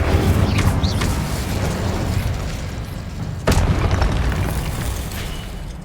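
The Incendio fire spell is cast in the video game Hogwarts Legacy, a loud, dense roaring burst of flame that stays high throughout and surges again partway through, with no talking.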